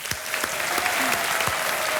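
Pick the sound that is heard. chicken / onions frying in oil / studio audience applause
studio audience applause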